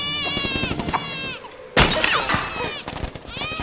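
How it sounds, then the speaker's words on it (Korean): An infant wails in rising and falling cries, interrupted by a sharp crashing impact, then the crying resumes amid the commotion. "이때 들려오는 아기의 울음소리"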